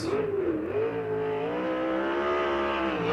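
A USAC race car screams around the Circle City track at steady high revs, its engine note holding loud and close with slight pitch sweeps through the corners, alone and unbroken by voices.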